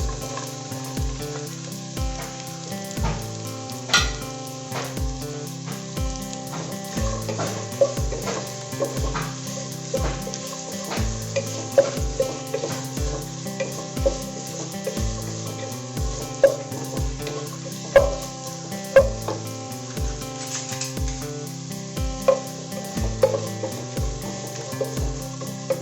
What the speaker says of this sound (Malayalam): അതിനകത്തേക്ക് നമുക്ക് ഈ സവോളയും ക്യാരറ്റും കൂടി ഇട്ട് കൊടുക്കാം.